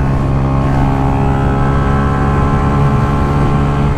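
A Yamaha R125 motorcycle accelerating to overtake on a highway, its engine a loud, close, steady droning whine with strong harmonics, heard alone and unbroken.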